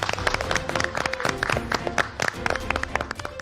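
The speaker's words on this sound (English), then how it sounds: "Give yourselves a round of applause." Cooking-competition contestants giving a round of applause in a kitchen studio, a short burst of scattered, uneven clapping from a small group close by, with faint voices mixed in.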